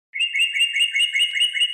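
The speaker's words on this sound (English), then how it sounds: "on the other side of the window, the red bird appears." A red bird chirps in a steady, bright run of quick repeated high notes, close and clear, alone with no voices.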